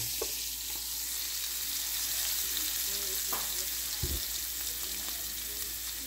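Wine hits a hot pan and sizzles in a loud, steady hiss close at hand, with a few soft knocks and stirring sounds over a continuous bubbling fizz.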